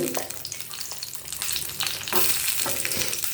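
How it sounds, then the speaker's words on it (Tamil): Three green chillies and about ten garlic cloves sizzle and crackle in a hot pan for a chutney, stirred now and then, with a steady close frying hiss and no talking. "சூடானோடனே 3 பச்சை மிளகாவை நம்ம போட்டு வதக்க போகிறோம். அது கூடயே ஒரு 10 பல் பூண்டு."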